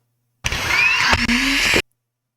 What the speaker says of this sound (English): the sound of the electric motor spooling and the impeller spooling up.